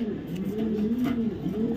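Low, throaty cooing from racing pigeons of Dutch and Belgian lines, a couple of rising and falling burbles heard up close and fairly clear.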